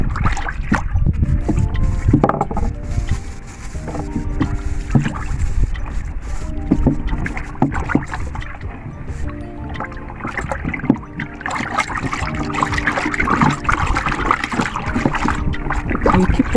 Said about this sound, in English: So as you are pouring, you are turning immediately